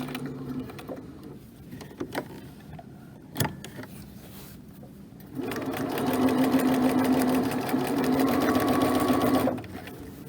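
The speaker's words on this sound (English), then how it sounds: "now that I've top stitched all the way around the whole entire apron" A sewing machine topstitching around the edge of a fabric apron, first a few short stitching bursts, then a steady whirring run of several seconds before it stops.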